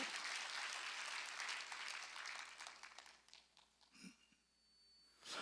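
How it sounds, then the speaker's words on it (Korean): A church congregation claps during a Sunday worship service, a dense burst of applause that fades after a few seconds into quieter rustling and scattered sounds, with another swell at the very end. "박수."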